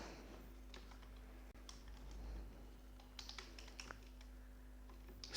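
Code is typed on a computer keyboard in quick irregular bursts of close, light clicks and taps over a quiet room hum, with no talking.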